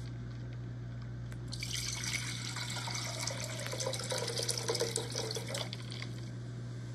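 Icy water, without the ice, pours steadily into a container for several seconds, a close splashing stream over a low background hum, then stops.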